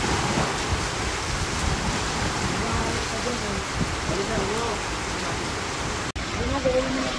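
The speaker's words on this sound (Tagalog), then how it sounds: "biglang lumakas. As in, lumakas bigla yung hangin at ulan, tapos dagat." During Typhoon Tino, strong wind and heavy rain roar steadily with sea waves churning beneath, a loud unbroken wash of noise, with voices faintly underneath.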